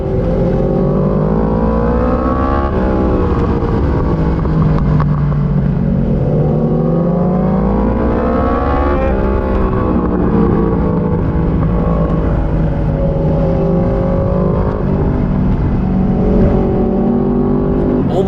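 Racing motorbikes launching at the start of a race, loud continuous engine roar with rising and falling revs as several bikes accelerate together, close and dominant with no talk.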